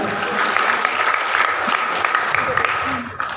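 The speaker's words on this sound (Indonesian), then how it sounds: "Tepuk tangan dulu untuk Tuhan Yesus." A church congregation at a Sunday worship service in Pematangsiantar claps steadily, a thick and continuous wash of applause that fades slightly at the end, with voices and cheering blended in.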